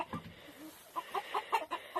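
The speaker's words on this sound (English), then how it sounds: "That one is our hen." Black Ayam Cemani hen on a farm, a few soft clucks and short calls over a low background, close and fairly quiet.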